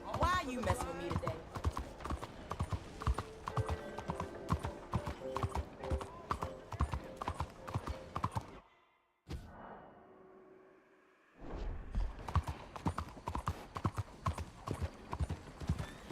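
A horse's hooves clip-clop steadily in Red Dead Redemption 2, loud and close. The rhythm breaks off briefly in the middle before resuming.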